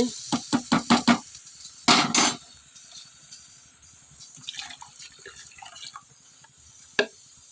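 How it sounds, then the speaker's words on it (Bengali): Chana dal (split chickpeas) being washed in water in a home kitchen: a run of quick sloshing, splashing bursts, a longer pour, then quieter swishing and drips, ending with one sharp splash. "ছোলার ডালটা ভালো করে ধুয়ে নিলাম"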